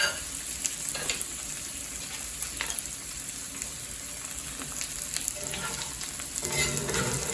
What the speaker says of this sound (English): you want this butter brown, not burned